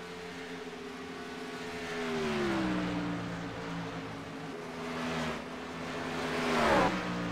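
Race cars run laps on an oval track, engine drone rising and falling as cars pass at a distance, with a faint, steady roar beneath and no talk over it.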